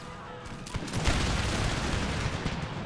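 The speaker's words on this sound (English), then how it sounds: "now we have returned fire" Musket volley fire from a battle in the video game Empire: Total War, a dense crackling fusillade of many overlapping shots rolling on continuously for a few seconds.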